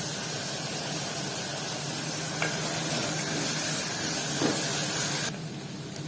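Onions sauté with a pinch of salt in a hot pan, a loud continuous sizzle with a couple of faint stirring scrapes, then the frying drops slightly quieter near the end.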